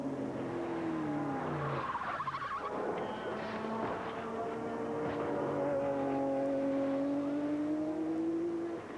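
A race car with a stuck throttle at Road America during 1984 IMSA GTP racing, its engine howling continuously as the pitch climbs and falls, heard from a distance with tire squeal and crowd-like noise beneath, and no speech.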